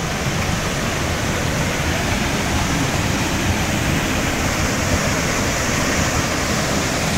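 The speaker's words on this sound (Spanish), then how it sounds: "vamos a la cascada chica entonces" Steady rushing water fills the clip, a constant broadband roar close by with no voices, like a small cascade pouring nonstop.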